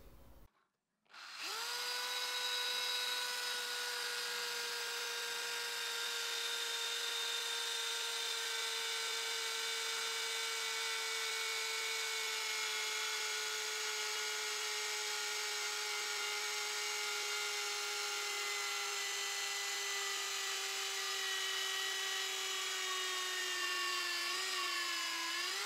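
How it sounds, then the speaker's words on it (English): A drill press doing flow drilling of 7–8 mm holes for 8 mm threads runs as a loud, steady whine for about 25 seconds, its pitch sagging gradually as the motor strains and slows near the end. "The drilling machine that I'm using for glow drilling is barely strong enough, and you can really hear it slow down at the end"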